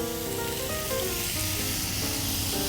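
Minced meat sizzles and crackles steadily in hot extra virgin olive oil, a close, continuous frying hiss.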